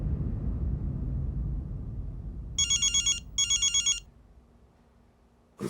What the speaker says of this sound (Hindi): विवान का फोन था